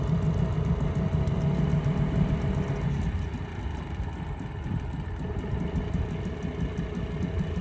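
A two-stroke outboard motor, a 5 hp Mercury or 8 hp Tohatsu on an aluminium-floored boat, idles with a steady low rumbling throb that continues evenly and close throughout.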